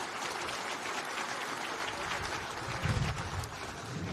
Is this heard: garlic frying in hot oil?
no